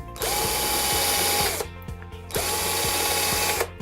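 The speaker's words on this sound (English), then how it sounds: "I'm gonna drill some pilot holes again in the timber to stop it splitting" A power drill whirs steadily as it bores pilot holes into pallet-wood timber for a bookshelf, two long loud close bursts separated by a brief pause, with ratcheting clicks through each run.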